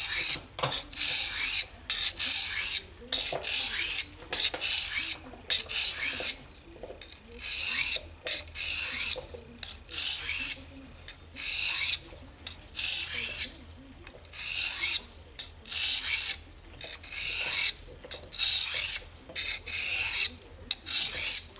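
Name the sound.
knife sharpened on Eze-Lap 600 grit diamond sharpening stone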